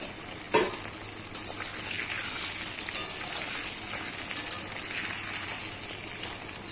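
Chopped onions and potatoes sizzling in a pan for chicken curry, a steady hissing fry running throughout with faint stirring scrapes and no talk.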